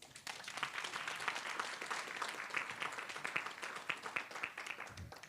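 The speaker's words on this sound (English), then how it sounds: "A round of applause, please." A conference audience claps for an incoming speaker at a leadership and wellness event, the sound fairly quiet and distant, a continuous patter of many hands with small swells throughout.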